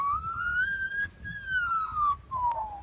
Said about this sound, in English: this magpie learned to imitate fire sirens